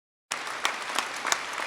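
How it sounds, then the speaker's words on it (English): Round of applause from the audience at an archive conference closing ceremony, dense steady clapping that starts abruptly after silence and fills the room, no talk. "So a big round of applause there again."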